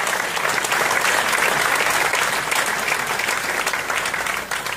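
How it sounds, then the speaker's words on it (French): Loud, sustained applause from an outdoor live concert crowd at Le Brusc, many hands clapping in a thick, even roar that continues throughout with little variation and no talking. "Vous pouvez l'applaudir, très fort."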